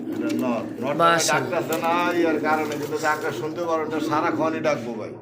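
A Shalik Koka pigeon coos in a continuous run of close, fairly loud, rolling calls, with someone talking quietly underneath.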